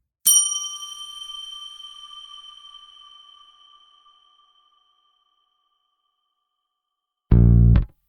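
A single bell is struck once, ringing with a bright metallic tone that slowly decays over several seconds into silence, followed by a brief loud thump near the end.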